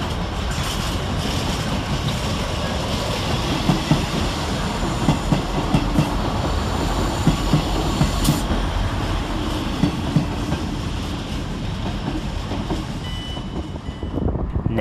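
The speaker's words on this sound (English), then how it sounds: "Whilst arriving in the background, we see 159107 working the 1338 South Western Railway service from London Waterloo" South Western Railway diesel unit 159107 arriving at Basingstoke station on a service from London Waterloo, a steady loud rumble of engine and wheels on track with rhythmic clicks, continuous and close, easing slightly at the end.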